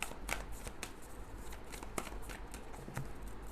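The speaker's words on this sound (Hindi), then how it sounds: "देखते हैं मेजर अरकाना से 5 कार्ड्स।" A deck of tarot cards is shuffled nearby with soft, rapid riffling and light flicks and taps against a faint background hiss. The sound is quiet, with no talk.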